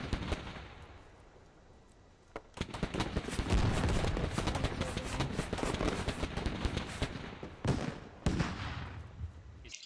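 Heavy gunfire fills a firefight in the military shooter game Squad on the Yehorivka map: a quiet lead-in, then a sharp shot and sustained rapid bursts of automatic fire, loud and dense, with a brief lull before more volleys.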